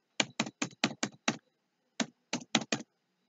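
Someone typing a file name on a computer keyboard: a quick run of six crisp keystrokes, a short pause, then four more, close and clear in a quiet room.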